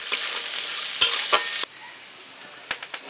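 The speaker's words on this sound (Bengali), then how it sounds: "এবার পেঁয়াজগুলো দিয়ে দেব, ছোলাগুলো দিয়ে দেব, দিয়ে একসাথে একটু ভেজে নেব।" Onions and chickpeas hit hot oil tempered with kalonji, giving a bright hiss that drops away after about a second and a half, with a few sharp clicks of the spatula near the end.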